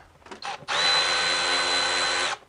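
A power driver whirs steadily for nearly two seconds at close range, unscrewing the mass airflow sensor on a MINI Cooper R56 with the N16 engine, after a few brief starting spurts.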